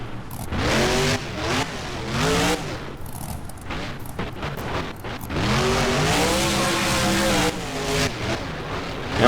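A monster truck with broken, detached shocks in a freestyle driving game revs loudly in repeated bursts, its engine rising and falling as tires squeal and rumble close by.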